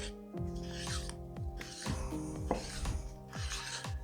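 Wood filler is stirred inside its container, giving repeated scraping, rubbing strokes in a steady rhythm, close and fairly quiet, with no talking.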